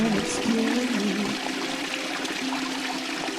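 Water runs steadily from a bathroom tap in a shared washroom, a continuous close splashing hiss with a faint tonal hum, with no other sounds.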